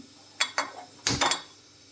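A metal cooking pot set down on a stove top, a few short clanks and clinks, then a heavier knock with a rattling settle, close and alone in a quiet kitchen.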